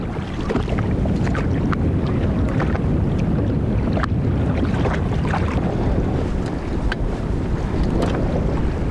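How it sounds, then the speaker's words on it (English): Strong evening wind buffets a small fishing boat out on the water, a steady loud roar of gusts and microphone wind noise with water slapping against the hull, and no voices throughout. "I thought the wind was supposed to die down in the evening."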